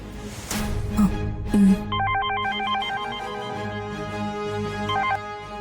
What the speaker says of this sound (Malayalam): ഇത് ഗോപിക്കുള്ള കോളാ, സംസാരിക്കേ.